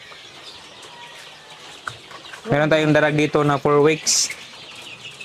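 Darag native chickens about four weeks old, penned on rice hull bedding, let out a short close burst of clucking calls in the middle, with quiet surroundings before and after and a person speaking briefly.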